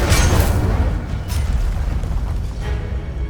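The Incendio fire spell goes off in Hogwarts Legacy with a loud, booming burst of flame at the start, then a rumbling, crackling roar that fades a little, broken by a couple of sharper flares, with no talk.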